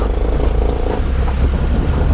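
A tempo truck cruising at a steady speed on National Highway 66 gives a continuous, close engine rumble with road noise, holding an even level throughout with no clear revving.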